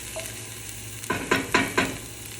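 Onions sautéing in a soup pot over a soft sizzle, then four quick, even stirring scrapes close up, no voices.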